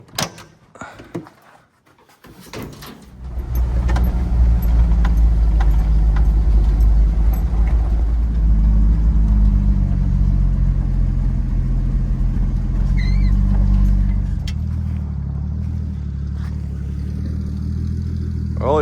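A pickup truck's engine starts up after a door thunk and some handling noises, then runs as a steady, loud low rumble while driving, easing slightly toward the end.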